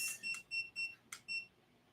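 A digital countdown timer beeps after being set for a 25-minute Pomodoro work sprint, giving five short, evenly spaced electronic beeps in quick succession, clear and close in an otherwise quiet room.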